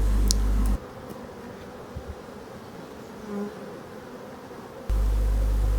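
Honeybees buzzing around hives in an apiary, a continuous, even drone heard fairly close, cut in on either side by a louder low rumble.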